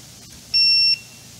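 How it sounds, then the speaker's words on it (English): A tower light unit gives a single sharp electronic alert beep when plugged in, loud and steady for about half a second over faint room noise. "So when you plug it in, it just does that alert beep."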